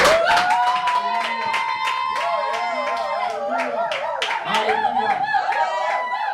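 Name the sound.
congregation applauding visitors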